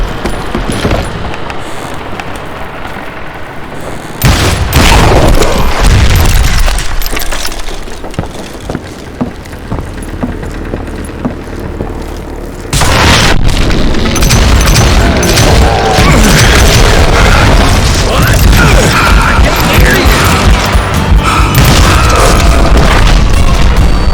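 Loud dynamite blasts in the Western shooter game Call of Juarez Gunslinger, two heavy booms with crackling debris and a long roaring rumble after each, no talk.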